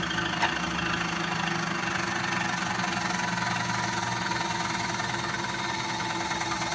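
A manual milling machine's spindle runs steadily at slowed RPM in reverse during precision machining, a continuous low mechanical hum with faint tonal whine, heard alone and even in level throughout.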